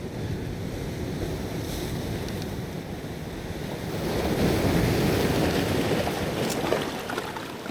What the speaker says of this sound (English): lots of splashing going on.